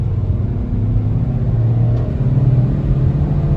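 A 2010 Subaru Forester accelerates hard up an expressway on-ramp with the throttle floored, its engine a loud, steady rumble that rises slightly in pitch and sits close throughout, with no talk.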